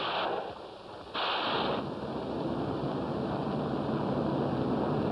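Naval guns firing massed salvos at the Normandy beaches, a dense, continuous roaring rumble of bombardment with sharper blasts breaking through near the start, loud and without speech.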